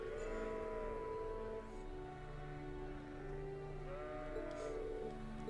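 Several sheep bleat in Trails of Cold Steel, long wavering calls rising and fading one after another over a soft ambient background, moderately near and alone with no talk.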